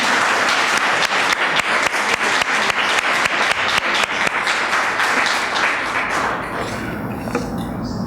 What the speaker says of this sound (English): Let's give these folks a round of applause and thanks.